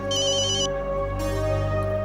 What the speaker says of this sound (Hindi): शबाब, अच्छा हुआ तुमने फोन किया।